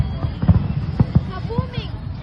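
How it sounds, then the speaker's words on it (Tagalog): Fireworks explode over the Burj Al Arab on New Year's Eve 2025, a few dull booms and pops under close conversation from nearby onlookers. "What do you think the fireworks are?"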